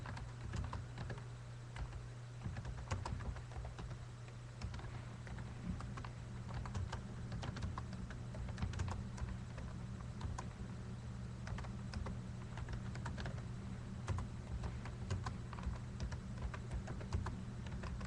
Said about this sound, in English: hate typing, just so you know.